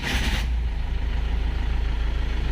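A truck engine catches after a new battery is fitted, with a brief broadband burst at the start that settles into a steady, close, low rumbling idle with a regular pulsing beat.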